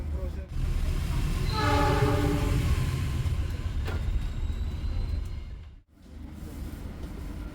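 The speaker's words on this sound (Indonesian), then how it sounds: "kereta GBMS berangkat dari stasiun Purwokerto" A GBMS passenger train departs Purwokerto station, rumbling steadily nearby as a horn sounds briefly, the rolling clatter of wheels on rails continuing and fading slightly toward the end.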